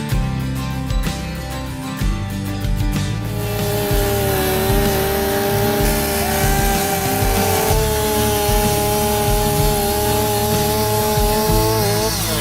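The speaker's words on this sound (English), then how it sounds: "cut that tree down into small pieces using the chainsaw" A chainsaw runs steadily and loudly throughout, revving as it cuts an old tree into small pieces, with no voices over the engine.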